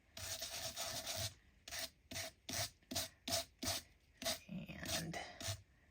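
Ink rubbed onto a stamped floral card with an applicator, from a card-making kit, making a run of close, rhythmic scratchy rubbing strokes, some longer and some short and clipped, with no talk.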